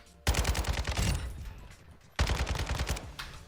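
Rifle fire in Modern Warfare II rings out as two quick bursts of rapid shots, each loud and close with a short ringing tail, separated by a brief pause.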